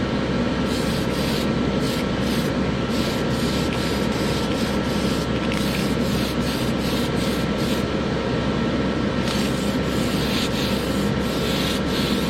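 Steady, continuous sanding of a model kit car body, a Keselowski Charger, with rhythmic rubbing strokes that rise and fall in quick succession, close-up and unbroken, with no voices.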